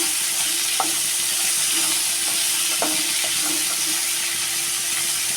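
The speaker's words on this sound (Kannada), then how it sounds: "ಸ್ವಲ್ಪ ಅರ್ಶಿನ ಪುಡಿ ಹಾಕ್ತೀನಿ ಹಾಕ್ಬಿಟ್ಟು ಏನು ಚೆನ್ನಾಗಿ ರೋಸ್ಟ್ ಮಾಡೋಣ" Ivy gourd with turmeric powder roasts in a pan with a steady, close sizzle, and a few clicks and scrapes come from stirring.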